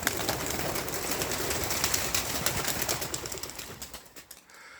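A flock of male and female homing pigeons is released from a loft and bursts into flight, wings flapping in a dense rush that fades as the birds move away.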